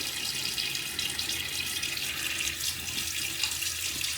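Tap water runs steadily into a coffee mug being rinsed, a close continuous splashing hiss with no pauses and no voices.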